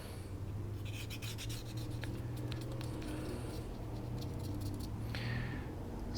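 Q-tips rubbed and scraped along the slide rails of a Colt Model 1903 Pocket Hammerless pistol, producing quiet rasping strokes in short bursts over a low steady hum.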